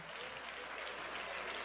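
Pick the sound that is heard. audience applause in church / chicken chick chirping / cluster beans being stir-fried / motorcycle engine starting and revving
audience applause in church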